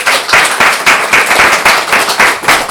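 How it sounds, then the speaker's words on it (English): Loud, close applause from an audience at a talk on psychedelics, with distinct rhythmic surges of clapping pulsing roughly every third of a second, no voices over it. "So round of applause for Martha, please"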